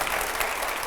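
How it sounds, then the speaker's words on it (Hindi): Studio audience at a TV9 news studio event claps in a brief, dense burst of applause, loud and even throughout the short moment. "और जोरदार तालियां हर जवाब पर"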